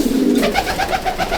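A pigeon coos close by in one short call, a low throaty note followed by a quick string of rolling pulses, with no voices over it.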